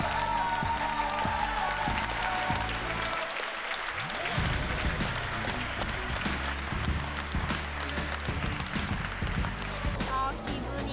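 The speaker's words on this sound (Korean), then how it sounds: "이렇게 한동안 박수 소리는 끊이지 않았습니다" A standing audience claps long and densely after a children's choir performance, a continuous close wash of applause with scattered louder claps throughout.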